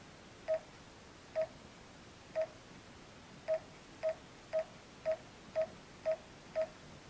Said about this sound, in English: Now try the phone number you want to dial.